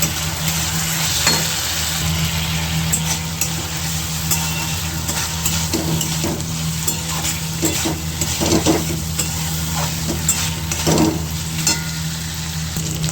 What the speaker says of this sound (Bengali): আমি একটু সামান্য জল দিয়ে একটু মশলাগুলো নেড়ে নিচ্ছি, মশলাটা মাখিয়ে নিচ্ছি।